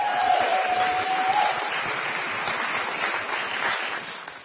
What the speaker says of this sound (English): all the guests are clapping like seals